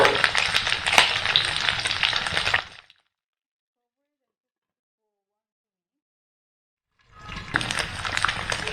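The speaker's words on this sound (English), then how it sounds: "Fry in medium flame." Smoked pork stir-fries in a hot wok over a medium flame, a loud crackling sizzle with stirring scrapes that stops dead for several seconds, then resumes just as loud.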